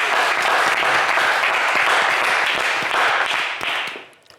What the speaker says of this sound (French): Allez, on applaudit Touré,